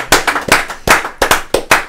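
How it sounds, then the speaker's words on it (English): A single person claps by hand in a quick, slightly uneven series of about eight sharp, close claps, with no talking. "I got to applaud that"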